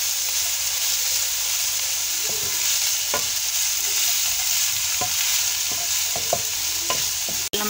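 Onions frying in a pan for tinda kebabs keep up a constant close hiss, while scattered scrapes and clicks from stirring cut through it.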